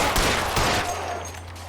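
Rapid burst of gunfire in L.A. Noire, a 1940s detective game shootout, loud and close, the shots thinning into a softer echoing tail after the first second.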